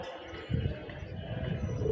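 Domestic pigeons coo softly in a low, continuous murmur close by, a gentle rumbling call that carries on steadily without voices.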